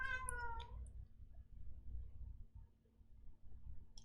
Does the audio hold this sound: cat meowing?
yes